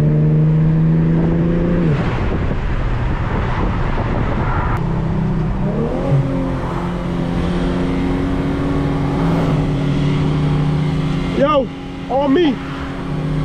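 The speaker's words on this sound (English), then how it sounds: "This turbo sound a little good, I ain't gonna lie." Infiniti G37 turbo engine accelerating during a night street race, a loud rising engine drone with gear-change steps and pitch sweeps, heard from inside the car with people talking over it.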